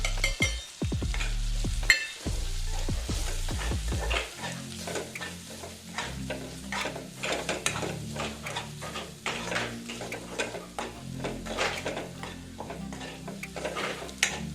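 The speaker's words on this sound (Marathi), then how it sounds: "मसाल्यांना व्यवस्थित फ्राय करून घेऊया." Spices fry and sizzle in hot oil for palak paneer, with steady close stirring and a few metal clinks of the spoon against the pan, continuing throughout without talk.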